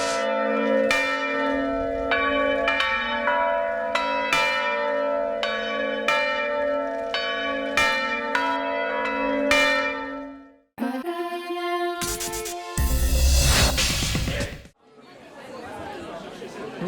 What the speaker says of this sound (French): collecter comme ça les sons des cloches, une par une, dans la façon dont elles sonnent.